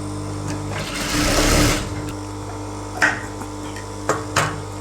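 A sewing machine stitches the elastic waistband of a small child's trouser in a steady, close mechanical whir that swells into a louder run midway. A few sharp clicks and taps follow as it slows.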